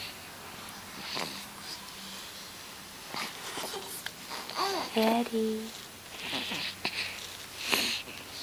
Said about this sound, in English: Can you hear her snoring?